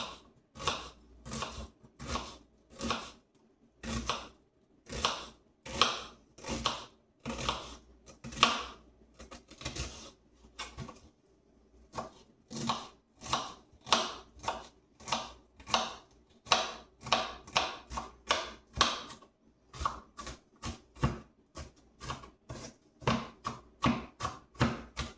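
A knife chops half an onion finely on a cutting board while meatballs are prepared, giving a steady run of sharp, close, rhythmic chopping strokes for the whole stretch, with no talking.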